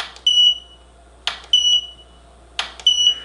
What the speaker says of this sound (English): every time I fire the flash, it will beep when it's reached full recycle